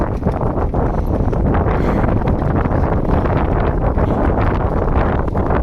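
Steady, strong wind buffets the microphone in a constant roaring rush, with no pauses and no voices.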